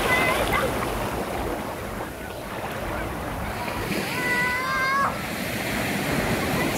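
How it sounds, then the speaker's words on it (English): Ocean waves wash at Medano Beach in Los Cabos as a steady, broad surf roar with some wind, and a voice speaks briefly over it partway through. "This is Medano Beach in Los Cabos."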